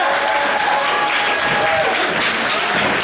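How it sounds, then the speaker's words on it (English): An audience at a wrestling show breaks into loud, dense clapping and crowd noise, steady and close throughout with no break. "I want to see everybody clap and get on their feet."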